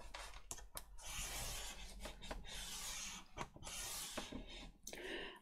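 Paper is scored for the spine of a handmade folio journal, giving quiet, close scraping and rubbing strokes in short repeated passes with faint taps between them.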